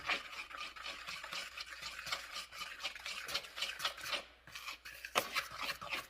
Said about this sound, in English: And now just give it a mix.